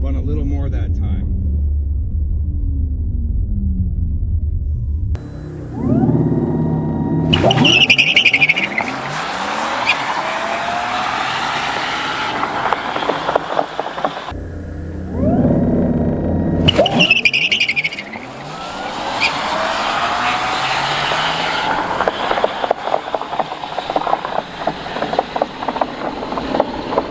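Porsche Taycan Turbo S electric car making repeated hard quarter-mile launches, with a rising whine and rumble as it accelerates, tire noise and a rushing roar building loudly, while people talk throughout over the vehicle sound.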